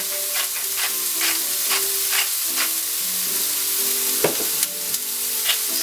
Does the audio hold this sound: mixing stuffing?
yes